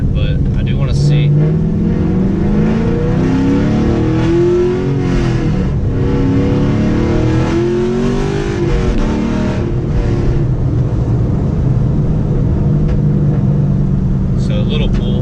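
A cammed Chevrolet Camaro SS engine pulls hard, its loud lumpy exhaust climbing in pitch through rising revs, easing, then climbing again before settling into a steady drone from inside the car.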